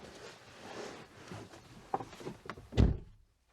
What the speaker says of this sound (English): There's probably lots of weight in the door to make it sound nice and chunky.